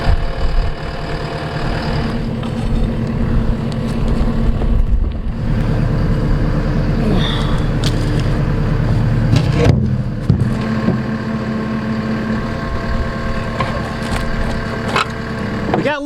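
A dump truck engine idles steadily and loudly up close on a farm during rainy grain loading, a continuous low rumble with faint knocks and rattles over it.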